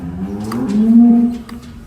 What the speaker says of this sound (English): We have a really noisy cow here in the background.